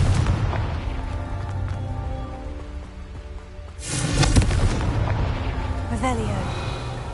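Confringo fire-spell blasts in the game Hogwarts Legacy, a heavy boom bursting out midway through a rumbling background, followed by a smaller crackling hit, with speech now and then.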